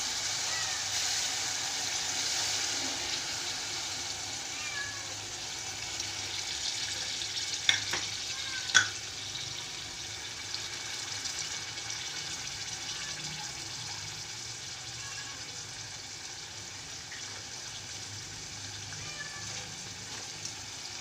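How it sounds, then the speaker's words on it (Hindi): A glass of water goes into fried masala for matar keema, and a soft continuous sizzle and bubbling follows with a couple of sharp clinks of a utensil, fairly faint and steady throughout. "हमारा मसाला बहुत अच्छा से भुन गया है। अब मैं इसमें पानी डाल दूँ 1 गिलास।"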